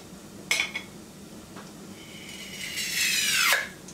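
A glass jar lid is pried off with a lid opener, giving a sharp metallic click, then a rising hiss of air rushing in that ends in a quick pop.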